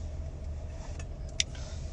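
A car driving along gives a steady low engine and road rumble from inside the cabin, with a small click or rattle partway through and no one speaking.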